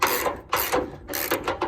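A hand ratchet tightens bolts on an old truck bed in short bursts of clicking, several quick strokes of rattling pawl clicks separated by brief pauses, close up and without talk.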